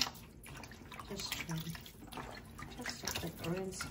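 Food is rinsed under a running kitchen tap, a steady splashing water stream with a few drips and handling sounds, heard close with a voice talking over it.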